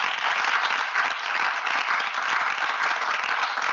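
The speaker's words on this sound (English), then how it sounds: "A round of applause." Steady, dense audience applause in a lecture hall after a talk on criticism in society, loud and continuous throughout with no voices over it.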